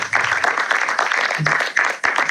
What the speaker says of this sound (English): give a big applause to LA